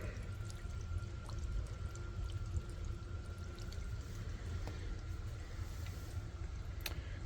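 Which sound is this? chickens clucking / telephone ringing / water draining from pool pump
water draining from pool pump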